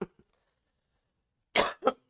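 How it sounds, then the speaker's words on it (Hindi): A single person gives a short cough, then after a pause two quick, harsh coughs close to the microphone, in an otherwise quiet room. "खांसी हो गई लगती है"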